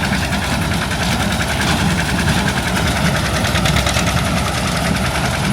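A John Deere 720 tractor engine runs steadily at close range while baling hay, a loud continuous low rumble with a fast, even knocking pulse and no voices over it.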